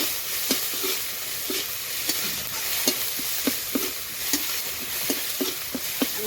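Chopped ginger and green chilli fry with cumin in a pan while banana flower chops are made, giving a soft, steady sizzle broken by regular spoon taps and scrapes roughly every half second, close but quiet, no talking.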